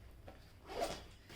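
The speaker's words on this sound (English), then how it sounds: "There is a hook, and then there are multiple zips." A zipper on a Decathlon Quechua Forclaz 50 L trekking backpack is pulled once, a short quiet rasping zip.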